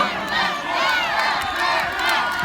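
A concert crowd shouts and cheers for an encore after a singer's set, a loud mass of voices swelling and dipping in waves, with a few sharp claps cutting through.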